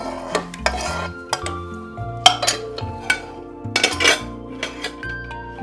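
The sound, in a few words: pakoras being put into kadhi in a dish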